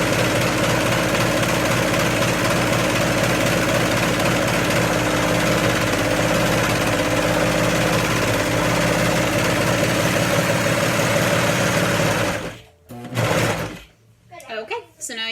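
A sewing machine runs steadily for about twelve seconds, stitching a cheer scrunchie fabric tube with a loud, continuous mechanical whir, then stops abruptly, leaving brief handling noises and a little quiet talk.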